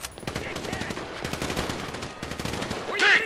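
Rapid automatic gunfire in Grand Theft Auto V during a firefight with Merryweather forces, dense sustained bursts of machine-gun fire close up, with shouting voices mixed in.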